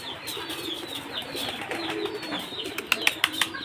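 Pigeons coo continuously at close range in a rural village loft in Bangladesh, with soft overlapping calls and a few sharp clicks or wing taps near the end.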